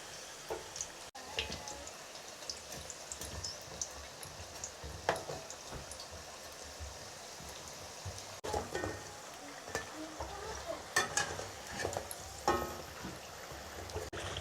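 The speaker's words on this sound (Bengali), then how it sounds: "মিডিয়াম আঁচে রাখে এভাবে এপিট ওপিট করে ভেজে নেবেন" Singara fry quietly in oil over medium heat with a soft, uneven crackle. Occasional sharper clicks come as they are turned, and no voices are heard.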